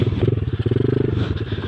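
A 2008 YCF R-Star 125 pit bike engine running close by, a loud, rapid, throbbing putter with quick pulsing beats that rise briefly as if revved, and no voices.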